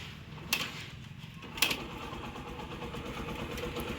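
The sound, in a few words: Yamaha Gladiator motorcycle kick-started, engine running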